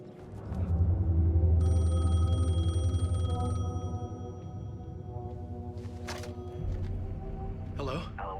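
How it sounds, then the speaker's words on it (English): A payphone rings in Alan Wake II, a steady electronic bell tone sounding for a couple of seconds over a low droning game ambience, followed by quieter atmosphere and brief noises. "payphone was ringing. Somehow I knew the call was for me."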